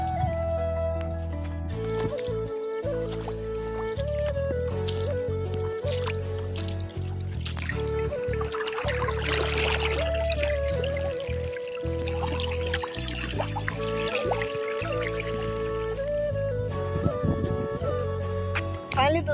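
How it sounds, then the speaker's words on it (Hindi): Water gushes from a tubewell pipe into a flooded paddy field, a steady splashing pour under a constant mechanical drone, with a voice talking over it. "देख सकते हो कि आप खेत में पानी गिर रही है"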